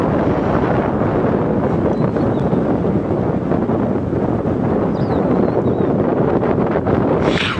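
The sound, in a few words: wind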